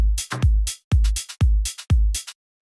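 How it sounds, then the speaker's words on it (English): An electronic drum groove, with a deep kick landing in a steady rhythm and crisp hi-hat bursts between the beats, loud and close, with no voices. "I just added this hi-hat"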